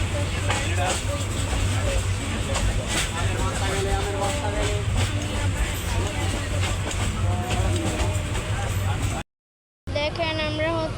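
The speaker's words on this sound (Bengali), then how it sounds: "দেখেন আমরা এখন ট্রেনের মধ্যে আছি।" Steady rumble and rattle inside a crowded moving passenger train on the route toward Dhaka, continuous throughout with people talking over it, cutting briefly to silence near the end.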